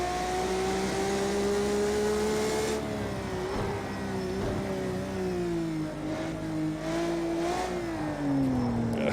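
A road car's engine from Project CARS 2 revs continuously through a lap, its tone rising and falling steadily as it accelerates and eases off, loud and unbroken with no talk.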